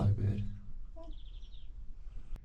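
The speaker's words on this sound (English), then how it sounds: "they've got a robin just behind him" A robin chirps with a few short, faint calls in a quiet outdoor setting on a scenic New Zealand 4WD track, after a brief low rumble at the start.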